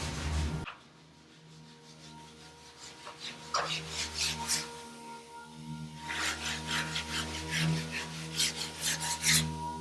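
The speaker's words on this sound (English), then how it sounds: "Sanding." Someone sands a part from a VW dune buggy restoration in a shop, making repeated rough rasping strokes in uneven bursts. A pause comes partway through, then a faster run of strokes follows against a low background hum.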